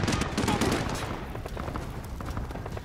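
Rapid hip-fire gunshots in the video game Call of Duty: Modern Warfare, dense and loud early on, then continuing as steady bursts of weapon fire mixed with battle noise.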